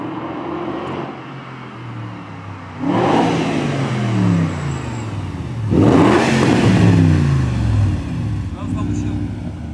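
A BMW 7 Series with a newly fitted exhaust is revved hard twice, each burst a loud, rising roar that falls away, over a low idle and faint voices nearby.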